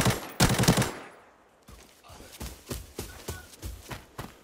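Rifle fire from a video game, shot from the hip: a dense loud burst opening, then a string of separate sharp reports in an uneven rhythm, with faint speech mixed in.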